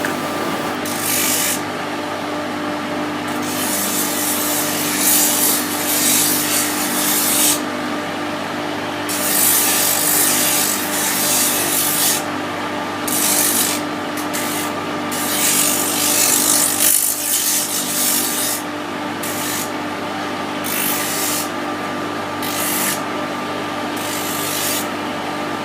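Hand sanding smooths and blends the edges of a wooden boomerang, a continuous close rasping rub in long strokes with brief pauses between them.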